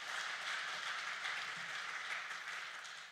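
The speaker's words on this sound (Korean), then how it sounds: "우리 박수로 한번 격려하도록 하겠습니다." A church congregation at a Korean worship service claps in applause after a male quartet, a faint, distant, steady wash of hands that holds evenly and eases off slightly at the end.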